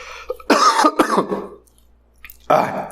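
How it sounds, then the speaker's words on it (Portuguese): A person coughs and clears their throat in a couple of close, rough bursts separated by a brief pause. "eu vou precisar até tossir de novo"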